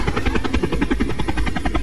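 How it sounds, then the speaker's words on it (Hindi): A helicopter heard close and loud, with rotor blades chopping in a rapid steady pulse over a dense engine roar for the whole stretch. No voices. "चलो यही हेलीकॉप्टर को उतारता हूँ।"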